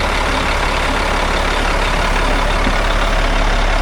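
An MTVR 6x6 military truck strains to pull a 65,000 lb CAT haul truck, its heavy diesel engine roaring loud and steady close by with a constant low rumble and no letup.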